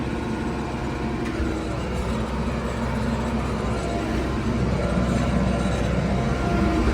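TYM T574 tractor in two-wheel drive pulling a Triple K 10-foot cultivator through a field, a steady low engine drone with constant rumble and no break, close and fairly loud throughout.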